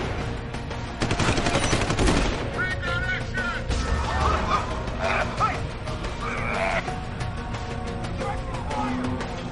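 Fragmentation grenade blasts and heavy gunfire in the Deus Ex: Human Revolution video game, a loud dense burst of explosions and rapid shots followed by rumbling combat noise that stays busy throughout.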